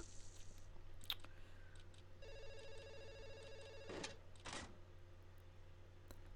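Telephone ringing in the 1990s hospital management game Theme Hospital, a faint synthetic electronic trill lasting a couple of seconds, followed by soft clicks and short game sound effects.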